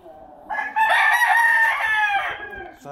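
A rooster crows loudly and close by, one long full cock-a-doodle-doo that rises, holds, then trails off.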